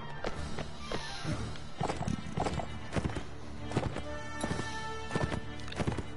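Horse hooves gallop in the video game Mount & Blade: Warband, a rapid run of sharp clip-clop beats over a constant background of battlefield noise.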